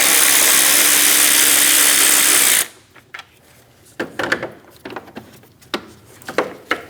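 A ratchet works a 10mm bolt loose on a 2005-2009 Subaru Legacy during a timing belt job: a loud, steady whirring burst cuts off abruptly, followed by scattered close mechanical clicks and taps.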